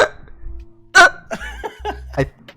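On a VTuber podcast, a person's voice imitates a hiccup with one sharp, loud, abrupt gulp, followed by short voiced sounds from nearby speakers.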